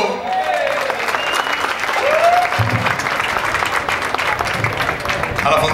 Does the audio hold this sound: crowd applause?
yes